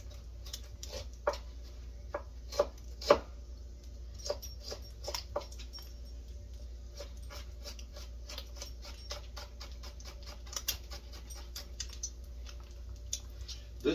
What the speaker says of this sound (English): I'm going to chop up the onions and the ginger.